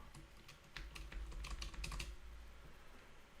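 Quiet typing on a computer keyboard during a coding session, a quick burst of clustered keystrokes in the middle, faint and close, with no voices.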